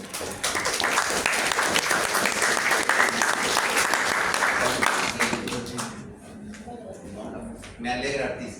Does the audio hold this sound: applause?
yes